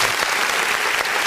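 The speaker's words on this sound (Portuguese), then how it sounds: "Vamos aplaudir o nome do Senhor Jesus" A church congregation applauds during a family worship service, a steady dense wash of clapping filling the whole moment without pause, loud and close.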